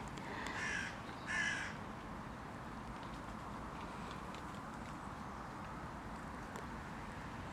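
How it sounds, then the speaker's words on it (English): A crow caws in two quick bursts as it flies past over a park, moderately distant and clear against steady outdoor background hiss, with quiet ambience afterward. "A crow just flew by there."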